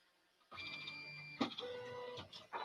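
A 3D printer works on a model at 40% infill and 0.2 millimeter layer height, its stepper motors whirring in short tonal runs that change pitch between moves, close and fairly quiet.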